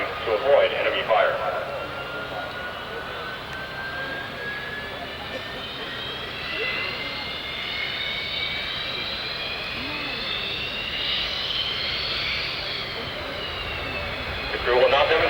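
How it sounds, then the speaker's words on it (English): Jet engines of a C-17 military transport aircraft roar at a 1994 airshow at Mildenhall, a sustained whining drone rising and shifting in pitch, loud and steady, while an announcer speaks over a public-address system. "The crew will now demonstrate the very short landing distance of the C-17."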